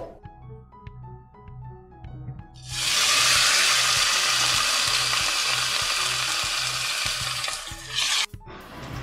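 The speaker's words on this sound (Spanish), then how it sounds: "Para comenzar vamos a poner la carne a freír" Beef meat dropped into preheated hot oil in a pan, breaking into a loud, steady, close sizzle after a few seconds of faint background music and thumps, then cutting off abruptly near the end.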